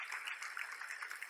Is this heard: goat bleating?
no